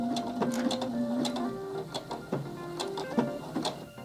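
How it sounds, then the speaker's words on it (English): A Baby Lock Jubilant portable sewing machine stitches a buttonhole, its motor whirring close up with quick repeated mechanical chatter and shifting pitch as the needle cycles. "So the machine's gonna stop and tell you that it's completed that buttonhole."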